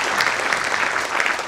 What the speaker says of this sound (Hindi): एक बार तालियां